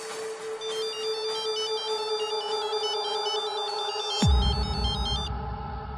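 A phone rings with a repeating electronic ringtone pattern over a steady background hum, ending in a sudden low thump before the tone fades out.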